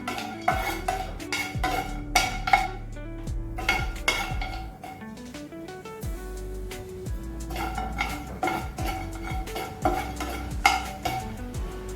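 A spoon stirs and sautés in a pan for drumstick leaf powder, making rapid, close metallic scrapes and clinks in bursts. A short quieter lull comes midway before the clatter resumes, with no voices.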